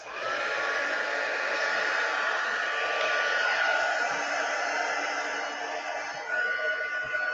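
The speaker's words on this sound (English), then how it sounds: "I'm going to dry that just real quick over here." A hair dryer blows steadily and loudly over melted wax for wax seals, a constant whooshing roar with no talk that eases off slightly near the end.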